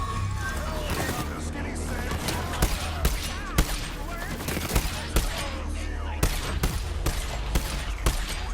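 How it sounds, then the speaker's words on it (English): Sniper rifle fire in the shooter game Borderlands 3: a run of sharp, repeated gunshot cracks over about eight seconds, dense and loud, with a player talking over the gunfire. "I'm such a good sniper, I'm missing every shot."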